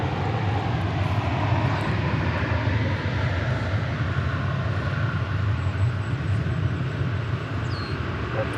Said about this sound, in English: 777-300ER is that plane